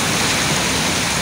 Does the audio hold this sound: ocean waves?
yes